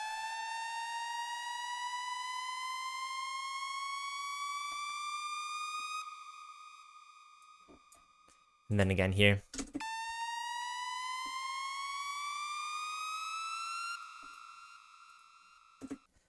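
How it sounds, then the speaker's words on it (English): Synth lead siren with pitch bend, made from a basic Pro Mars lead patch: steady harmonic wails slowly sliding upward, fading, then returning after a short burst of noise, with a brief voice talking over it. "So this is the siren."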